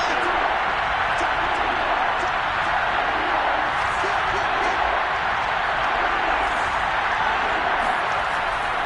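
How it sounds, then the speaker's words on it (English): Football stadium crowd roaring steadily ahead of a big third down in a game broadcast, a dense, continuous wash of cheering and noise that stays loud throughout with no pauses. "The crowd getting into it as we come up on a big 3rd down."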